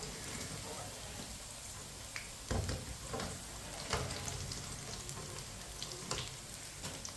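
Pakoras frying in hot oil, a steady broadband crackling sizzle throughout with a few louder pops, close and continuous.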